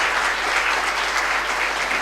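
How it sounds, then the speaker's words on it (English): Audience applause at a live hackathon event in Vizag, steady and full crowd clapping sustained throughout without pause. "let's give him a huge round of applause"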